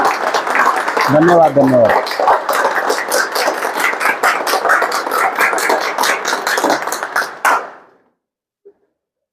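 An audience at a health talk claps loudly and steadily for several seconds, then the applause fades into silence while someone speaks briefly over it.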